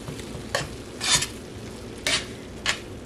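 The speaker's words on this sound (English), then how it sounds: "let's stir that up" Hot dog chili made with ketchup is stirred in a pot, with a few distinct scraping strokes of a utensil against the pot over a low bubbling background, close and without speech.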